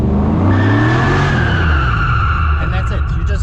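Car tyres squeal loudly as a manual car does a 180-degree spin from a standstill during drifting practice, engine revving beneath the long screech, with a voice talking over it.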